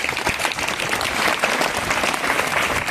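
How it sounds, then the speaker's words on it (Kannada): An audience at a June 2026 environment day speech event gives loud, steady applause, many hands clapping together continuously for the whole span. "ಈ ಶಿಕ್ಷಣ ಸಂಸ್ಥೆಗೆ ದೊಡ್ಡ ಜೋರಾದ ಚಪ್ಪಾಳೆ"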